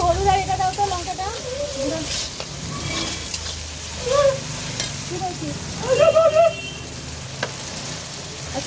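Dried fish frying in a pan with tomato, chilli and turmeric, a steady hiss and sizzle with stirring scrapes, while someone talks intermittently over it.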